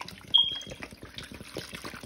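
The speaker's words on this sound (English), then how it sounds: "So I'm gonna go ahead and add 1 bottle of water." Water from a bottle pours over seasoned raw chicken in a kitchen, a short splashing trickle that rises quickly and keeps running in soft, uneven gurgles close by.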